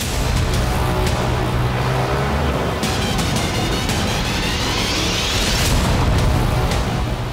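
Loud, continuous booming roar with crackling bursts and rumbling throughout, like a large explosion and its aftermath heard up close.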